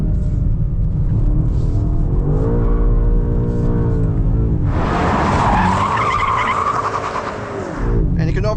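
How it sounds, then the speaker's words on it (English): A 2025 BMW M5's rear tyres spin and squeal under hard acceleration into second gear, a loud screech over a deep rising engine roar, with the pitch shifting as the car pulls forward. "definite wheel spin into second gear, but it's still propelling me forward"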